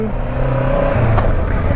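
A heavy, large, nearly new Kawasaki motorcycle engine running at close range, with a steady low rumble and a mild rise in pitch partway through, heard alone without voices.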